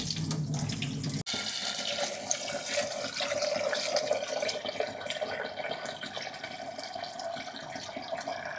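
Tap water runs steadily into a sink while soaked ingredients are rinsed, a continuous close splashing stream with faint clinks and no talking.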